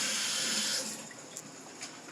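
Cold tap water runs from a faucet as cucumbers are rinsed, a steady hiss of flowing water that thins into softer trickles and splashes.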